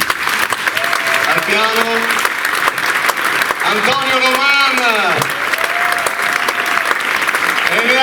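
Steady, loud applause from a concert audience at a memorial music event, continuous throughout while a presenter's voice speaks over it, introducing the performers.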